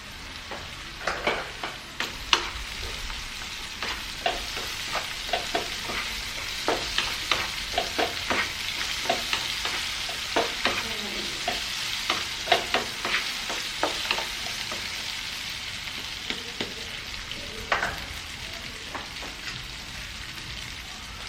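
Chopped potatoes frying in hot oil for a tin fish curry, a continuous sizzle broken by frequent clattering scrapes and knocks of a spoon stirring the pan.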